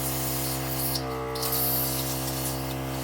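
An airbrush spraying makeup hisses in a continuous spray, pausing briefly midway before resuming, with a steady mechanical hum from a Temptu 2.0 compressor underneath.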